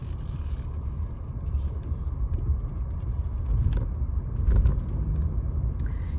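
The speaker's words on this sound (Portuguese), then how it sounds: "Vou fazer o parking do carro aqui." A car being parked makes a steady low engine rumble with road noise and faint rattles, swelling slightly near the end as it maneuvers, close and continuous.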